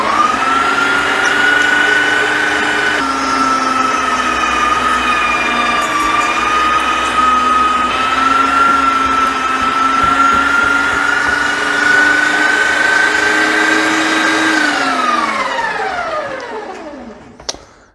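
A loud electric grinder runs through its first grind with a steady, droning motor whine, then winds down and stops near the end.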